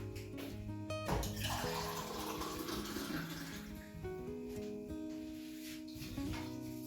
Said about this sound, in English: and then I'll add more water.